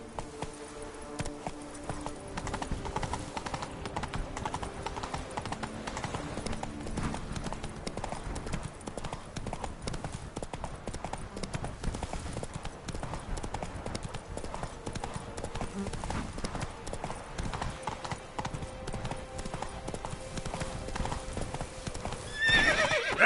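Hooves of the horse Roach clip-clop steadily at a gallop through The Witcher 3: Wild Hunt Blood and Wine on PS4, with whinnies and neighs rising over the rhythmic beat and a faint voice underneath.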